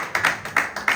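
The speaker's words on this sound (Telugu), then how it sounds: "చప్పట్లు గట్టిగా" Loud audience clapping at a Telugu Christian church sermon, a few sharp, evenly spaced claps in a steady beat, close and clear with no talk over it.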